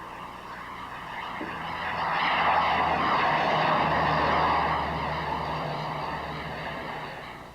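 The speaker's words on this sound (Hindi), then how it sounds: "जब जब इस तरह हवाई जहाज गुजरता है ना" A fixed-wing airplane passes overhead at night, a steady droning engine roar that swells to its loudest midway and then slowly recedes, heard alone without talk.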